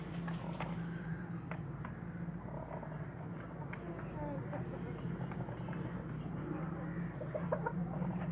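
Aseel chickens clucking softly in short, scattered bursts over a steady low background, fairly close, with murmuring voices mixed in.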